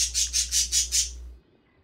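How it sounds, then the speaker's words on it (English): A bird squawks in five quick rhythmic pulses in the video game Subnautica, fairly loud and close, followed by a low hum that cuts out. "Good to hear my birds are still back."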